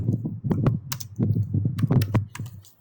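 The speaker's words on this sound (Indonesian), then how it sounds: "Kita ketik kembali" Steady run of computer keyboard keystrokes at close range, irregular clicks and clacks without pause, with no one talking.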